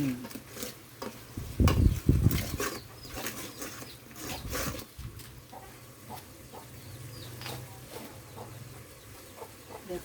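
Spoon scraping and stirring through spicy chicken curry in a pan, a few loud clattering strokes early on, then quieter intermittent scrapes over a soft simmering background.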